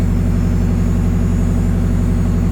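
Mazda RX-7 rotary engine idling steadily after a new alternator install, a loud, close, low throbbing drone holding an even pulse without pause.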